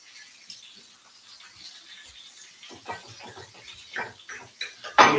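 A knife scrapes and taps against a plate while slicing into a cooked pork chop, a series of light clinks and scrapes close by, ending in a sharper clatter.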